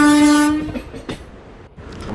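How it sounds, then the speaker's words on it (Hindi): Electric locomotive hauling a goods train through a railway station, its horn blaring loud and sustained at the start, then fading into rumbling wagons and rail clatter as it passes close by. "यहाँ पे एक गुड्स ट्रेन को हम स्किप कर रहे हैं बुढ़ार रेलवे स्टेशन में"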